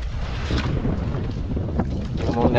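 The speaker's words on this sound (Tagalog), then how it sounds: "Sobrang lakas na talaga ng hangin dito." Strong wind near a mountain buffets the microphone in loud, rumbling gusts, with faint voices underneath.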